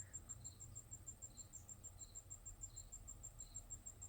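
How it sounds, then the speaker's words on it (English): Outdoor crickets and cicadas chirp faintly in the distance, a thin high-pitched pulsing trill repeating steadily over low background rumble. "Oh my god, these crickets today. And cicadas and such."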